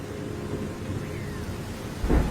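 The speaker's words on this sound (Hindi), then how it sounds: "बाहर बहुत तेज बारिश हो रही है।" Heavy rain in an animated story pours as a soft, steady hiss, fairly faint, with a brief low rumble swelling near the end, and no voices.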